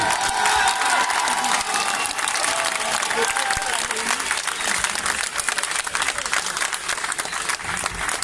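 Sustained applause from a crowd at an outdoor rally in Tours, dense clapping held at steady loudness for several seconds with faint voices and cheers mixed in.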